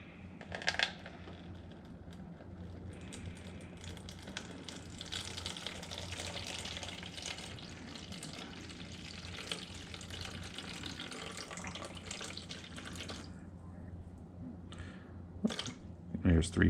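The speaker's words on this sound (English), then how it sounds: "So 340 grams of warm water." Warm water pours into a mixing bowl for rye bread dough, a steady faint splashing stream close by with some kitchen handling noise, and a person talks throughout.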